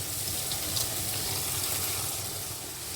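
Paneer curry with water, sugar and garam masala bubbling in a pan, a soft steady hiss and simmer with faint bubbling, close and continuous, no talk.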